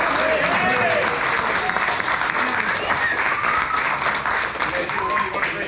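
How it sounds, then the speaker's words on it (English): A live audience at an outdoor Goodguys car show claps in sustained applause, dense and steady, with some cheering and chatter mixed in throughout. "let's just give these guys a nice round of applause"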